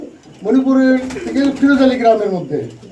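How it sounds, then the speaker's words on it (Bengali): Pigeons coo repeatedly close by on a pigeon farm, low rolling calls overlapping in a steady murmur, fairly loud. "বর্তমানে আমি দেখতে পাচ্ছি আপনার এখানে অসংখ্য কবুতরগুলো রয়েছে"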